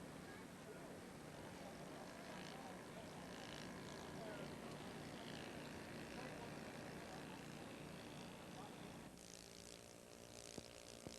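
Engine of a radio-controlled model airplane powered by an Inya 124 four-stroke, a steady distant droning whine held throughout that shifts in tone near the end, with faint background noise.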